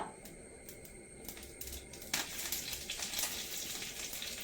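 Mustard seeds and curry leaves in hot coconut oil, a quiet sputter that grows into a denser crackle of small pops midway, close and unaccompanied by talk.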